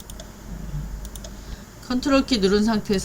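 Faint computer keyboard taps and mouse clicks while Ctrl is held and a sheet tab is dragged, a few scattered clicks at first, then someone talks over quieter clicking.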